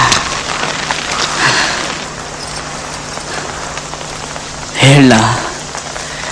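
Heavy monsoon rain driven by wind, a steady dense hiss filling the whole clip, with a voice speaking briefly over it near the end.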